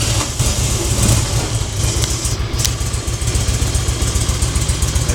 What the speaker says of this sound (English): we're going to go ahead and fire it up, go through the gears.